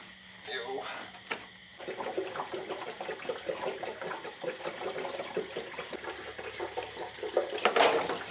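Water splashes and trickles steadily while being poured into the cooling system of an abandoned Chevrolet Squarebody dually truck fitted with a big-block engine, running for several seconds under a man's speech.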